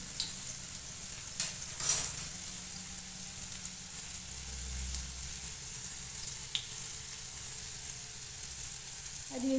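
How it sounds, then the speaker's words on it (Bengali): Cumin seeds crackle in hot oil beside fried potatoes, a quiet steady sizzle with a few sharper pops and a low rumble in the middle. "এই মাঝখানে দিয়ে দিচ্ছি অল্প একটু জিরে ফোড়ন"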